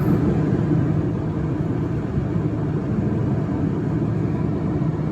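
A 2006 Chevy Equinox cruises at just over 50 mph, with a steady, loud cabin rumble of road and engine noise that stays constant throughout, and no voices.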